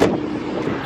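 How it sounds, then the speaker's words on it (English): Wind buffets the microphone in a steady, rumbling roar, loud and close, with no voices. "My goodness, it's very windy."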